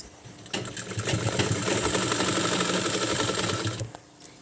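A sewing machine stitches a kurta's folded front placket in a steady, close, continuous run of about three seconds that starts and stops cleanly.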